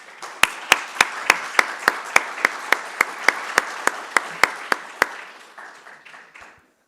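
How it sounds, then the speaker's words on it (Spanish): Audience at a philosophy lecture on body and affectivity applauds a guest speaker. Steady clapping with a few sharp, regular claps standing out near the microphone, then fading into scattered claps and silence. "Un aplauso."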